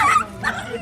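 A dog gives a quick, high yipping bark or two while playing with a dolphin, close and fairly loud, over in under a second.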